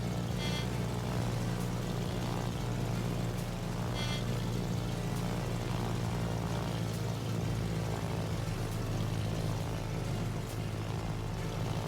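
Propeller aircraft squadron from World of Warships droning steadily as it flies, a continuous low engine hum that holds at an even level, with no talking.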